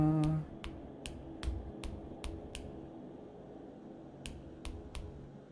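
Clapping from a character in the video game Katzenholz: short, sharp, separate claps repeating in quick bursts, with a brief tonal game sound at the start and quiet background.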